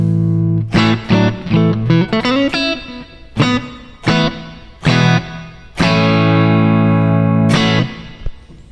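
Distorted electric guitar, a PRS SE Silver Sky, plays a series of strummed chords and short riffs, with some chords left ringing, no voices.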